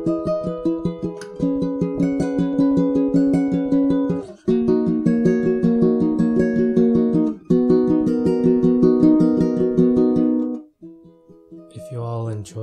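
An acoustic ukulele plays a bright plucked riff layered over a shifted copy of itself to mimic a delay effect, steady repeating notes in phrases with short breaks, ending in a few softer strums.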